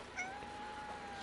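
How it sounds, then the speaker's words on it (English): A cat meows once in the video game Crimson Desert, a short, thin, rising call over a quiet, even background with no talk. "Oh my god, it's a fat cat."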